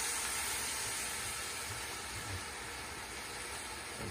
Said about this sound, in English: So we put some beer in there.